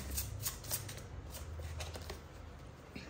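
Tarot cards shuffled and drawn from a deck in a soft run of papery riffles and slides, fairly quiet and close, with a low steady hum underneath and no talking.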